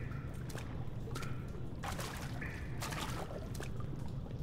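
Water sloshing and splashing in the horror video game Amnesia: The Dark Descent, a few irregular splashes over a constant low rumble, fairly close, with no talk.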